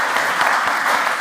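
A hall audience applauds Noémie's father, a dense, steady wash of many hands clapping at close range, continuous and fairly loud throughout the short burst.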